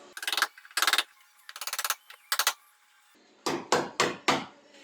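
A hammer strikes a flat wood chisel to split apart a panel on a Porsche 914 under restoration: sharp metallic-wooden knocks in quick clusters of three to five, loud and close, with brief pauses between the groups.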